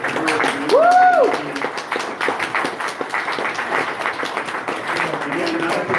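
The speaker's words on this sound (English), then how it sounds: "One more round of applause for these guys." A studio audience applauds the debaters with steady, dense clapping that carries on for several seconds, with a brief voice rising above it near the start.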